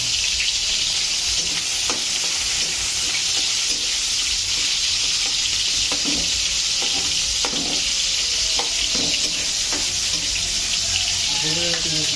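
Chopped onion and garlic sizzle loudly in a hot frying pan, with a constant hiss of frying broken by the scrape and clatter of stirring, close up and with no talking.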